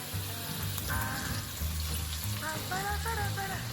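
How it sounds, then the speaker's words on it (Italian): Broccoli dropped into a pan of sizzling soffritto while cooking wholewheat spaghetti with broccoli, capers and anchovies, giving a constant close frying hiss with a low hum beneath and some faint tonal clinks and chirps in the background. "Poi mano a mano lo buttiamo dentro il nostro soffritto."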